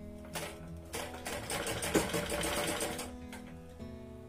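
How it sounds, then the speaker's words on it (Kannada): Sewing machine stitching a homemade doormat made from old clothes, a steady mechanical whirr running almost continuously with brief pauses and restarts, close up and alone with no talk. "ಇವಾಗ ಅದನ್ನ ನಾವು ಸ್ಟಿಚ್ ಮಾಡ್ಕೊಂಡು ಬರೋಣ."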